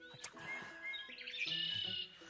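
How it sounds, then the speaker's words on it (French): A blackbird sings in a short, faint phrase of clear whistled notes and quick chirps, alone with no voices over it. "Ah, c'est beau, un petit merle noir"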